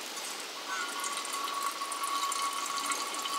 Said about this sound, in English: you have to let the water drain out of here onto the ground until the water level is below this line